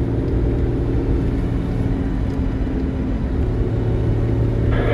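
Hummer military vehicle with a V8 engine driving fast, its steady low engine rumble and road roar continuous and close throughout.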